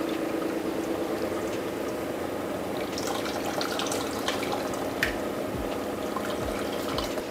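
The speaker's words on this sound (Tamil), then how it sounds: "பாயாசமும் ஒரு கொதி வருது" Payasam and sambar simmering in pots for a Puratasi Saturday vegetarian offering meal, a steady bubbling boil with soft watery churn and occasional clicks and drips, close and continuous, no talk.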